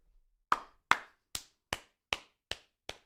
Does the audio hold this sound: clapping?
yes